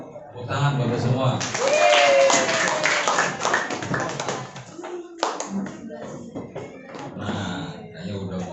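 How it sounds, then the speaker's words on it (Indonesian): An audience claps in a hall during an anti-corruption education session, a burst of hand clapping mixed with voices and children talking, fading into chatter and light taps. "Tepuk tangan Bapak semua."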